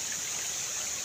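Outdoors, water in a stream flows with a steady, hissing rush, a constant close wash of sound with no voices.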